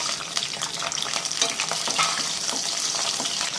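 Garlic frying in hot oil in a pan for a white creamy pasta, giving a steady, close crackling sizzle with scattered pops and occasional stirring clinks, continuous throughout with no talking.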